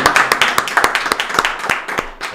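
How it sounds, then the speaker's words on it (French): Applause from a small audience at a French startup and corporate talk show welcoming a guest, with distinct individual claps in an uneven rhythm, fairly close. "on peut l'applaudir"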